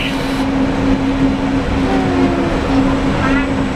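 Steady rumble of the Disneyland monorail in motion at the Magic Kingdom, a continuous low drone with a constant hum throughout and faint wheel noise, heard from inside the car.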